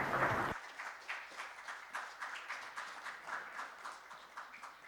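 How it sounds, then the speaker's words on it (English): Faint, steady applause from a conference audience for the counsel of a mock arbitration at an international IP court event, rhythmic clapping continuing after a brief louder sound at the very start. "Please give them a round of applause."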